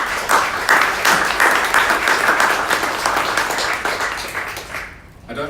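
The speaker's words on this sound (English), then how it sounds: "I'd like to offer them a round of applause." Sustained audience applause at a tech innovation hub launch event, dense and loud clapping that holds steady before tapering off near the end.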